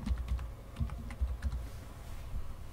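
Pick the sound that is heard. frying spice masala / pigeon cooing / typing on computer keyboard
typing on computer keyboard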